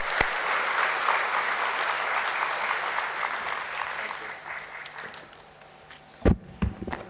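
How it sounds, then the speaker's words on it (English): Applause from the audience at a stock exchange listing ceremony for DOMS Industries at BSE, a sustained mass of clapping that slowly thins and fades, ending with a few scattered louder claps and knocks. "Let's have a huge round of applause for Mr."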